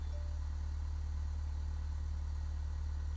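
A Cessna 172 piston engine idling as it taxis in Flight Simulator X: a steady, close, low drone with a faint regular pulsing and light clatter, continuous throughout with no talking.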